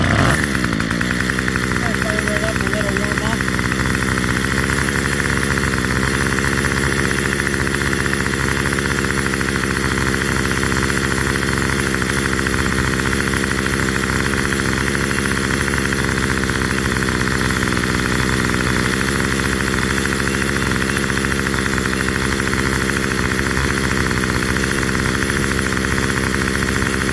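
Small two-stroke engine of a Remington string trimmer running and warming up after a fuel tank swap, a loud, steady buzzing drone that holds continuously close up.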